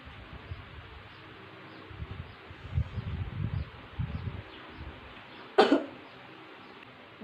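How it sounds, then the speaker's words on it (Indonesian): A single effective-cough demonstration after two deep breaths: a sharp, fairly strong cough bursts out near the end, preceded by low breathing and rustle, close to the microphone. "langsung batuk sedikit agak kuat"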